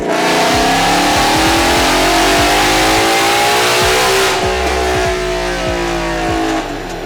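A modified Ford Shelby GT500 engine revs hard nearby, a loud, continuous roar that climbs in pitch, then eases off toward the end.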